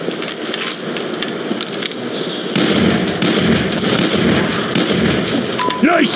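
Gunfire in the Team Fortress 2 video game, with sharp shots and crackling bursts over dense game noise and music, loud and continuous, while voices talk throughout.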